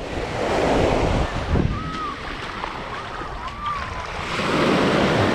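Ocean surf washes onto the beach at Orange Beach, Alabama, a steady rushing wash with gusts of wind buffeting the microphone, swelling louder toward the end.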